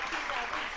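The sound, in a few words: applause from studio audience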